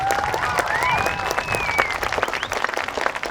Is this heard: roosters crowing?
no